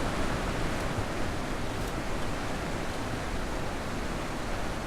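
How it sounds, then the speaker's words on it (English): A loud waterfall in the video game The Witness roars as a dense, constant wash of rushing water, steady and close with no voices over it. "it's a very, very loud waterfall thing"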